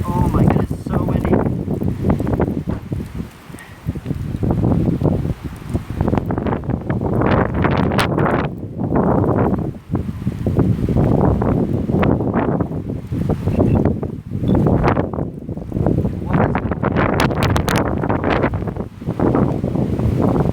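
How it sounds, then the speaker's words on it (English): Strong wind blowing outdoors, buffeting the microphone in heavy continuous rumbling gusts that rise and fall throughout, with a person talking intermittently under the roar. "Oh my goodness, it's so windy."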